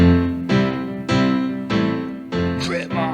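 A song track about a reporter plays with a steady rhythmic beat: clear repeating pulses about every half second over sustained tones, loud and close, with no talking.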